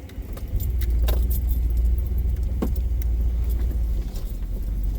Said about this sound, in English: this is me leaving. I know you're super excited to watch me drive off